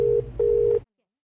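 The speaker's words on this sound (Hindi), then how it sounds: "आपका रिंग शायद एक्सचेंज में जा रहा है।" Telephone ringing tone in an Indian comedy film scene: two steady electronic beeps, a short one and then a longer one after a brief gap, and then sudden silence.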